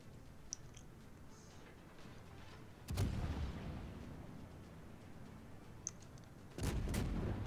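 Warship guns fire armor-piercing shells in a naval battle video game, two heavy booming salvos a few seconds apart over a low, quiet background.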